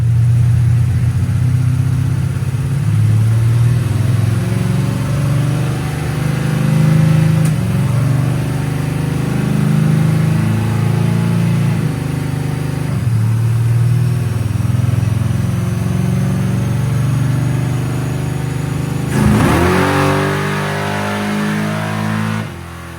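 A drag car engine runs hard on a dyno with a 750 carburetor and the torque converter locked, a loud, sustained mechanical roar with shifting pitch through a long pull, then a sharp rising rev and cutoff near the end, with no talking.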